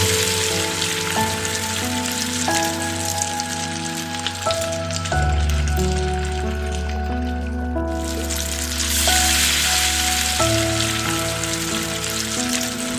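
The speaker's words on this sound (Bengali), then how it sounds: "এবার এগুলোকে নাড়াচাড়া করে মিশিয়ে নিব।" Boiled macaroni chips being stirred in a hot pan give a steady, rain-like sizzle that runs without a break, with a soft tonal hum underneath.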